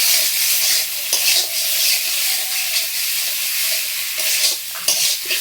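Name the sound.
eggs being cooked in a pan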